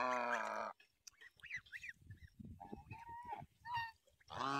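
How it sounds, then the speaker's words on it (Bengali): Village ducks out foraging in open fields trade loud, nasal, honking quacks up close, with a burst of repeated calls at the start, scattered softer calls in the middle and another loud round at the end. "হাঁসগুলো এখানে কিন্তু এইভাবে এখন খাবারের সন্ধানে কিন্তু বেরিয়ে পড়েছে"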